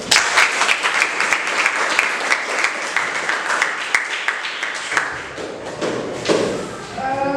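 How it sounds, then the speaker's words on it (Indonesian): A classroom full of students applauds, with dense, steady clapping and scattered sharper thumps that carry on for several seconds and ease slightly toward the end. "Beri aplaus semuanya"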